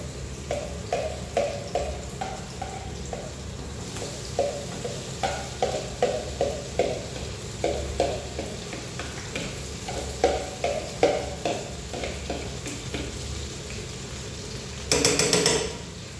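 Tofu is stirred and fried in a pan, giving repeated rhythmic scraping strokes of a utensil over a soft sizzle, close by, ending in a brief louder clatter.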